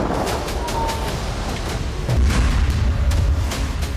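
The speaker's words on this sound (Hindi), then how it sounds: "जबालिया कैंप में हमास के लड़ाकों ने इजरायल के मरकावा टैंक को धमाके में उड़ा दिया।" An explosion blowing up an Israeli Merkava tank in Jabalia camp, Gaza: a loud, rumbling boom with a heavy low-end swell midway, amid continuous noisy crackle and some sharp bursts.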